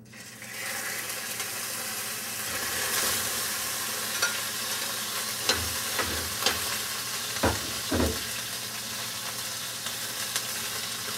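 A pound of hamburger meat sizzles steadily in vegetable oil in a frying pan, a continuous close frying hiss broken by occasional sharp scraping and stirring clicks, with no talking.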